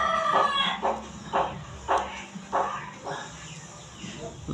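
A rooster crows close by, then a run of short, repeated clucking bursts follows at a steady rhythm, fairly loud, with no talking.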